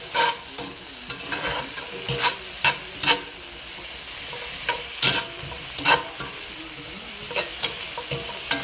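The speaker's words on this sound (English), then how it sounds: "So let's get our veggies in there. We're just going to go ahead and get them all in there. Okay, let's stir that up." Vegetables are stirred into oxtail frying in a pot, giving a steady sizzle under repeated scraping and clacking strokes from the spoon, close and moderately loud with no talking.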